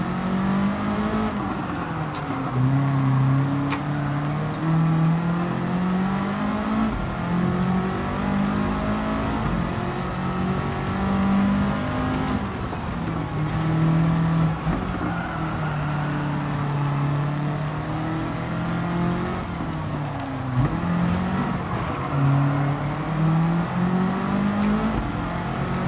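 The Fantastic Cat Car engine in the Scenic Races video game revs continuously, its pitch rising and falling in repeated waves, with a steady whirring tone throughout and no talking.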